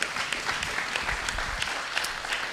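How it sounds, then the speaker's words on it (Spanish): Audience at a university talk in Ciudad Juárez applauds, a steady wash of many hands clapping at moderate volume, fairly even throughout with no speech on top. "les pido un aplauso para dar pie a esta charla con él"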